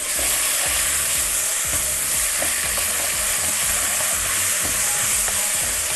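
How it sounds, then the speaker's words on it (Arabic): Vermicelli and onion fry together in a pan, a loud, continuous sizzle with occasional scraping and stirring clicks close by, without any talking. "هنا بنحمر الشعريه مع البصل"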